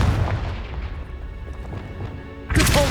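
A Confringo spell explodes in Hogwarts Legacy, a single loud blast arriving near the end after a low, rumbling stretch of game ambience.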